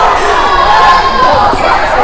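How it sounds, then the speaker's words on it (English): A crowd cheers at a men's college basketball game in a gym, a loud sustained roar of many voices with shouts rising and falling, and some talk mixed in. "I didn't see what that cheer was all about"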